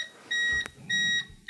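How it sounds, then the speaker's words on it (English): A battery backup unit gives repeated high electronic beeps, three steady tones in a regular on-off pattern, with a low hum and a brief click between them and no voices. "We're going to get another beep from the battery backup."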